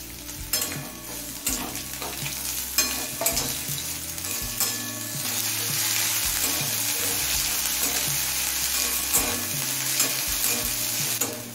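Chopped onion fries in oil with garlic, a loud continuous close sizzle broken by repeated stirring clatter of a spoon against the pan, with no voices.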